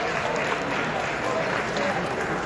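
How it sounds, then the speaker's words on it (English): At an evening event for Israel at a Bal Harbour synagogue, the crowd applauds the organizing committee with a steady wash of clapping, with faint voices mixed in. "Let's give them a round of applause."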